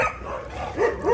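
Doberman dog giving two short, close barks or yips in quick succession, moderately loud.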